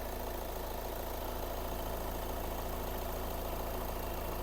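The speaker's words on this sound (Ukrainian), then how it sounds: "Дуже приємно працює гарно двигун, так як має працювати двохлітровий дизельний двигун" A two-litre diesel engine in an Audi A5 2.0 TDI idles steadily and continuously, a constant low rumble with a faint knocking texture throughout, no voices.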